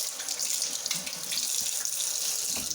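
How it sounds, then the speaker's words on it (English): Tap water runs steadily into a kitchen sink as a hand is rinsed under the stream, a continuous close splashing hiss with no talking. "Rinse my hand off."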